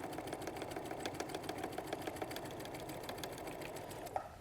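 Sewing machine stitching quilt fabric, a steady quiet whirring hum with fast rhythmic needle ticks running continuously, then a small click near the end.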